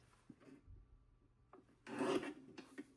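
Paper trimmer slicing through heavy cardstock during card making, a faint short scrape followed by a louder rasping cut lasting under a second, then a brief second scrape, quiet and close.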